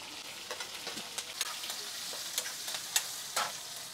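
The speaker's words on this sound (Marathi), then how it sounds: "बघा मिरची मस्त परतून घेतली आहे" Green chilies sizzle in oil with curry leaves, cumin, mustard seeds and ginger-garlic paste, a soft, steady fry close by, broken by light scrapes and taps of a spoon stirring the pan.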